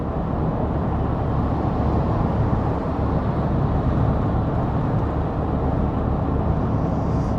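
A 2025 Infiniti QX80 cruising on a highway, heard from inside the cabin as a steady, dense low rumble of road and tire noise with a constant wind wash and no voices.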